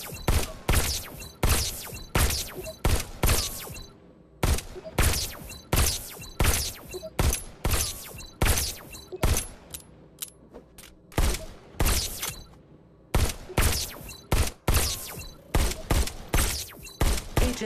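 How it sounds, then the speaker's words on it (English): Pistol shots from the VR game Robo Recall ring out in loud, close, evenly spaced bursts of sharp cracks, repeating steadily with brief pauses between volleys. "Just squeeze the trigger to shoot."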